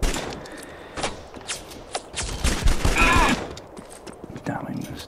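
Gunfire in an online multiplayer shooter match, several sharp bursts and single shots scattered over a few seconds, moderately loud with game ambience between them.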